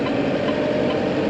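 Steady, loud rumble of a new tractor's engine idling, heard from inside the cab as a continuous drone with no breaks or talk.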